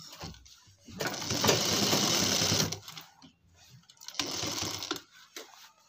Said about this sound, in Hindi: इस कट से इस कट तक ये हमने सिलाई लगा दी है